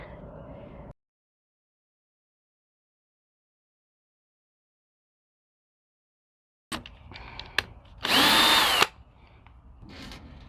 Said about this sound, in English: I'm going to go ahead and drill on the next angle.